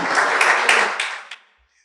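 A church congregation applauds in a dense, steady wash of clapping that swells briefly and then fades out to silence within about a second and a half.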